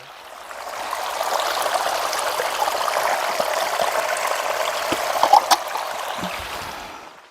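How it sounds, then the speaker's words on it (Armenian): Water pours in a steady, close stream that fades in, holds evenly, then trails off with a few small splashes and knocks at the end. "Ջուր"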